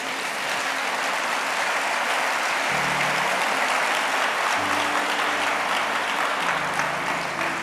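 An audience claps steadily and densely throughout, a broad wash of applause from many hands with a few low voiced sounds underneath, loud and continuous without pause.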